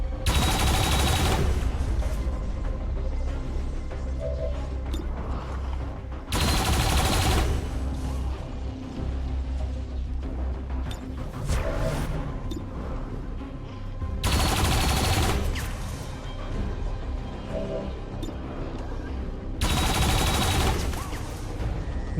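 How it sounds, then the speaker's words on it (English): Four loud bursts of gunfire from a shot in XCOM 2: War of the Chosen, each lasting a second or two and spaced several seconds apart, with quieter combat ambience rumbling in between. "Tired of waiting around. Might as well take the shot."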